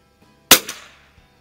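Winchester 52D rifle firing Browning Pro22 .22lr target ammunition, a single sharp crack with a brief tail at close range, alone and otherwise quiet.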